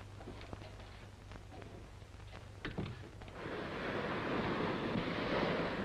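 Atlantic ocean waves roll and wash in a steady, broad roar that swells louder partway through, with wind buffeting underneath and a few faint clicks and knocks early on.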